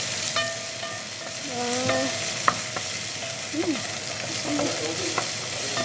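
Shallots and fish pastry filling sizzling and being stirred in a pan with no added water, a steady fry hiss broken by scraping spoon strokes and light clinks close by.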